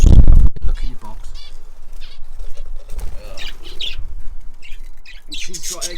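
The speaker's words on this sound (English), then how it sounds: "there's 2 baby zebra finches in there, and this mum, there she is" Zebra finches, a mother near her nest box with two chicks, chirp and squawk close by in sharp repeated calls, with a burst of wing flapping at the start.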